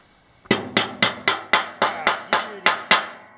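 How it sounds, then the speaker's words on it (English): Ten evenly spaced hammer taps drive a piece of lumber into place at a lumber mill, each blow sharp, close and loud, ringing briefly before the next in a steady rhythm with no talk. "Maybe I can just tap that in right now with a hammer."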